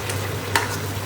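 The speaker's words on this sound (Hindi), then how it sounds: "अब मैं इसको प्रॉपर मिक्स करूँगी, जो मैंने आपको मैरिनेट वाला मीट दिखाया था।" Marinated mutton for biryani is being stirred and mixed in a pan, giving a soft sizzling, scraping sound with one brief louder scrape partway through.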